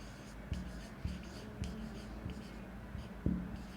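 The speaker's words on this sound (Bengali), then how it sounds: "বাংলা ইংরেজি দুটোই লিখে দিচ্ছি" Marker or chalk writing on a board in a biology class, with a run of short, distinct strokes and taps spaced about every half second, close and clear against faint room noise.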